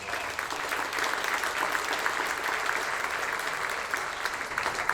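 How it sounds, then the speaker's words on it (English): Audience applause at an awards tribute to champions, a sustained, even wash of many hands clapping in a large room, steady from start to finish with no voices over it. "So a big round of applause, everybody, to Mark Blau."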